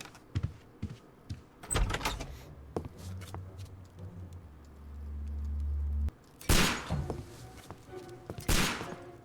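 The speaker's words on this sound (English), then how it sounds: "Is that a gunshot?" Gunshots in the Sherlock Holmes: Crimes & Punishments game ring out as a few sharp, loud cracks at irregular intervals, with a low sustained hum between them, and no talk.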